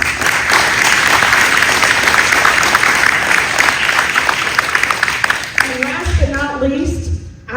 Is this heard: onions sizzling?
no